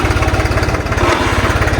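A large CRDi tractor diesel engine runs on a farm during ploughing, a loud, close, rhythmic pulsing chug that holds steady throughout.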